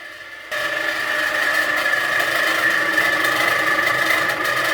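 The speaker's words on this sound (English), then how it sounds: "I don't know if you can hear me, but that is the fan." A noisy apartment ceiling fan switches on abruptly and keeps running with a steady, loud whirring hum and mechanical rattle, close by, with no talking.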